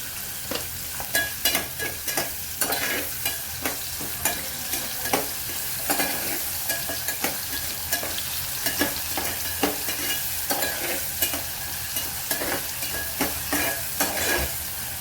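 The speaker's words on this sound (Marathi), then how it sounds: "यामध्ये थोडंसं मीठ टाकणार आहे आपला कांदा छान पटकन भाजेल" Onion fries in a pan with a little salt, sizzling steadily up close while a spatula knocks and scrapes against the pan in a regular, repeated stirring rhythm throughout.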